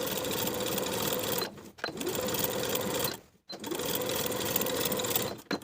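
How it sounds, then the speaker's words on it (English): A sewing machine stitches a pocket to its seam allowance on a pair of barrel pants in three steady whirring runs separated by short pauses, loud and close with no talking. "Sew the pocket to its seam allowance underneath with an 1/8 inch seam allowance."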